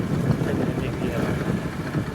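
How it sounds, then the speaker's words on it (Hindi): Outdoor wind blowing steadily across the microphone, a continuous low rumbling buffet that stays loud for the whole stretch, with no voices. "बाकी हवा चल रही है ना"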